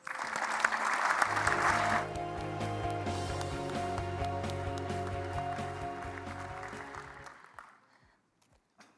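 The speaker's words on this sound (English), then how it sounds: "the back of the room there gave me a standing ovation" Audience clapping for a speaker welcomed to the stage, loud and dense at first, then settling into steady applause under music-like tones, fading out near the end.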